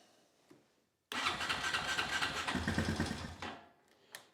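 A Honda TRX350TM ATV fitted with a new starter cranks and fires abruptly, its engine roaring loud and close for a couple of seconds before winding down, with a few faint clicks before and after.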